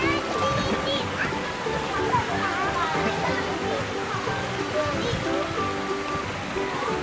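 A child in a mermaid costume slips into the water and splashes about, a steady wash of churning, sloshing water with voices faintly mixed in.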